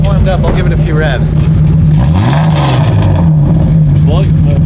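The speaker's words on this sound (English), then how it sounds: "Now that it's warmed up, I'll give it a few revs." A 1995 BMW E36 engine, warmed up, revs loud and close, rising and falling through a couple of throttle blips over a steady idle, with people talking over it.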